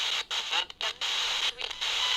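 Steady hiss of white noise from a Radio Shack 12-470 radio used as a spirit box, sweeping with brief dropouts and gaps, loud and close with no voices.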